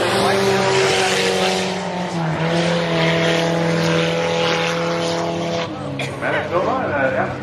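Four-cylinder Hornet division race cars run on a short track during a heat race, their engines droning and revving together with tire noise and a broad wash of track ambience, while an announcer talks over the continuous roar.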